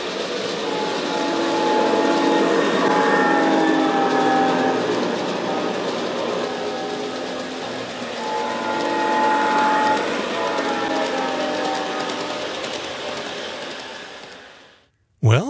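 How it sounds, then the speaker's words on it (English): Two MTH model locomotives roll past on a home layout in California, their simulated horn and motor sounds swelling and fading with a Doppler-like shift in a long continuous pass before stopping abruptly. "check out this clip with both of my MTH locomotives simulating the Doppler effect"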